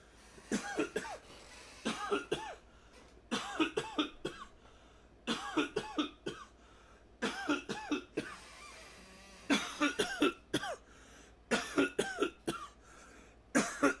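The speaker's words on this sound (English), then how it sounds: "I gotta start coughing into my left hand." A person coughs repeatedly in short bursts of several harsh coughs, separated by brief pauses, close and fairly loud with no other talk.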